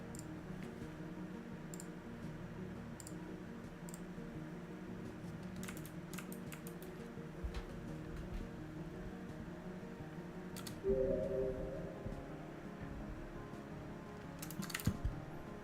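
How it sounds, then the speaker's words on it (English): A computer keyboard clatters with soft, quick clicks in uneven bursts, quiet and close, over a low steady hum of game background sound. "Can you always hear my keyboard, or is it only when I'm talking?"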